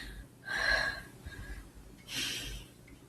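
A person imitates heavy breathing with two loud, breathy gasping inhales separated by a short pause, close and alone.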